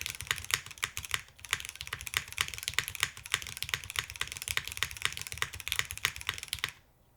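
Fast, steady typing on a Womier SK71 Pro mechanical keyboard fitted with aftermarket keycaps: a dense run of crisp, close clacks with a brief pause near one second, ending abruptly just before the close.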